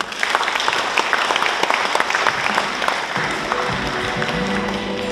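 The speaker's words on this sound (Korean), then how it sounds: "큰 박수 한번 해주시죠." An audience at an academic history conference in Daegu breaks into sustained, dense applause, many hands clapping steadily throughout.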